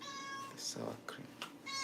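A house cat meows in a home kitchen, a few short close calls with a person speaking briefly nearby.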